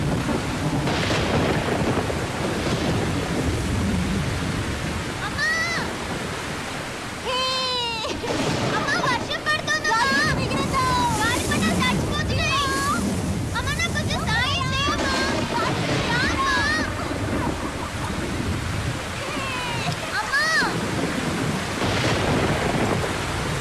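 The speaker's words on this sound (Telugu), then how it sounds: "ఉరుములు మెరుపులు అంటే భయం. నేను వెళ్తాను. వర్షం వచ్చేలా ఉంది." A thunderstorm with thunder and rain rumbles and hisses steadily in the background, while voices and other high, wavering calls come and go over it for the whole stretch.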